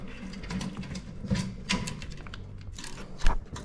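A power driver whirs and clicks in short, uneven bursts while screws are tightened on an exhaust combustion blower motor, close and moderately loud.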